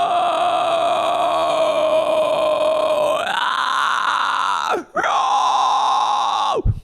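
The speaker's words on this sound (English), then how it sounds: "an inhale fry scream like this oftentimes gets a bad reputation" A harsh, gritty vocal fry scream made on an inhale, sustained for several seconds with a pitch rise midway, a brief break, then another strained rasp.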